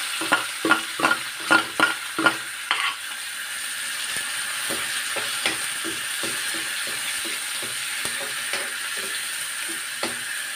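Onion and curry leaves fry in a few spoonfuls of hot oil for misal pav, a continuous sizzle and hiss with a run of rhythmic scraping stirs at first, then sparser clinks of the spoon.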